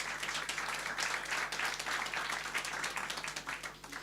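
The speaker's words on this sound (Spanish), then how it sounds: "Gracias por el aplauso" Audience applause in a church class, a continuous patter of many hands clapping at moderate volume with a faint low hum underneath, and no voices over it.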